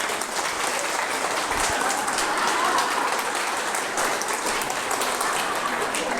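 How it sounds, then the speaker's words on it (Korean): An audience at a church prayer gathering clapping, a dense, even burst of applause that fills the whole stretch at steady loudness without speech. "박수 치면 자꾸 시간 갑니다."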